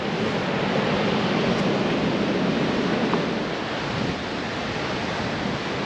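Surf washing onto soft sand at Mandalay Beach, a steady, loud broadband roar with wind rushing across the microphone throughout and no clear breaks between waves.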